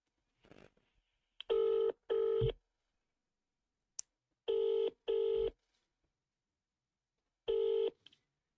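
A telephone callback: a quick string of keypad dialing tones, then paired ringback tones that repeat at steady intervals with silent gaps between them. It is faint and clean, with no voices.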